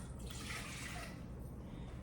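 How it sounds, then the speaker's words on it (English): Water poured into a pot for lemon meringue pie filling, a faint, steady hiss and trickle that runs the whole time with no break. "the first thing we're going to do is we're going to add the water."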